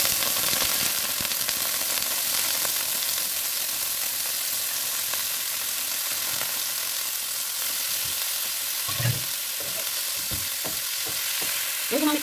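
Meat browns in hot frying oil while being cooked for a home meal, a loud, steady sizzle filling the whole stretch, with a few soft stirring knocks near the end and no talking.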